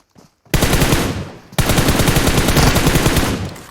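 Automatic gunfire in the mobile battle royale game PUBG Mobile: a short pause, then two loud, sustained rapid-fire bursts, close and dense, with no talk.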